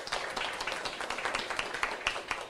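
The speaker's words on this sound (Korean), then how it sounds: "신 교수님께 큰 박수 부탁드리고요" An audience claps for a professor at the close of a science lecture on immunity and disease, with scattered individual claps in an uneven, fairly close patter over a couple of seconds.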